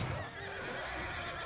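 Horse neighing in the Mount and Blade II: Bannerlord battle, a loud close whinny over a continuous din of clopping hooves and combat, with no talk.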